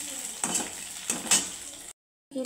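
Sliced onion and garlic fry in a pan, a soft close sizzle broken by several sharp scrapes of a spatula against metal, then a brief silence before the stirring resumes.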